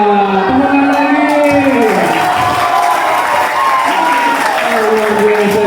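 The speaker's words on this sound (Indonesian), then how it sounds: "Tepuk tangan lagi." A school audience at a junior high boarding school talent showcase claps and cheers loudly, with voices shouting over the applause and a speaker's voice rising above the crowd.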